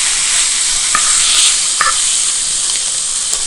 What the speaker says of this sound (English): at this stage I'm just going to put the steak down in the pan